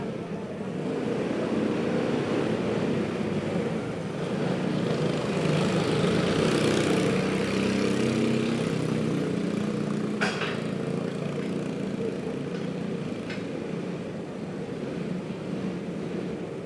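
Racing karts roar around an indoor track during qualifying, a continuous buzzing engine drone that swells and fades as they pass, with a couple of brief sharp clicks.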